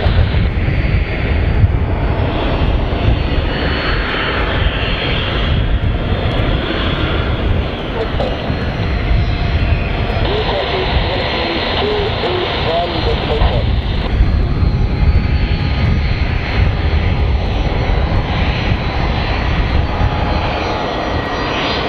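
Military jet taking off at RAF Lossiemouth during the Joint Warrior 16-1 exercise, a loud sustained engine roar lasting throughout, with a voice heard under the thunder.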